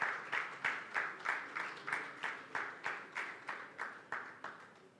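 Audience clapping in a steady rhythm, around fifteen even claps in about five seconds, moderately distant and fairly quiet in a hall as presenters come up to a stage.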